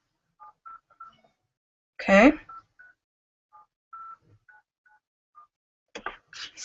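Touch-tone DTMF beeps from a cell phone keypad as a number is dialed, a string of short separate tones spread across the clip, with a brief burst of speech near the start and a short word spoken.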